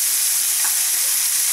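Chopped onion frying with a spoonful of sugar for Turkmen shurpa, a steady, dense close sizzle with no breaks and no voices.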